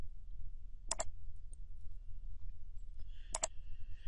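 Computer mouse clicks while working in Revit software, two crisp close double clicks a couple of seconds apart, with a faint single tick between them over quiet background hum.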